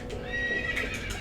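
A horse neighs loudly in The Legend of Zelda: Twilight Princess, a bright whinny with a trilling tail, heard alone for about a second.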